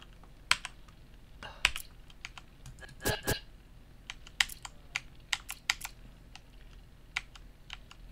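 Sparse keyboard clicks as a password is typed in the video game Volunteer, single keystrokes and short clusters spaced irregularly, close and crisp over a quiet background.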